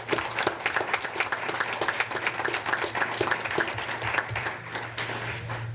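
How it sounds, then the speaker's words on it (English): A board meeting audience applauds retirees from the Pasco schools, a steady, full burst of many hands clapping that holds evenly across the room, with a low hum underneath. "which deserves a round of applause"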